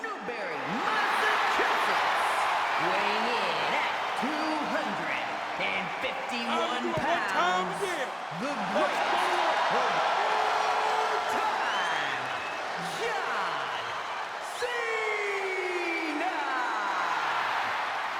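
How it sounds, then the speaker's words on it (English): Virtual arena crowd in the WWE 2K26 wrestling video game cheering and roaring for John Cena's entrance, a sustained loud swell with someone commentator talking over it. "this crowd always goes crazy for Cena as they're appreciating him one final time"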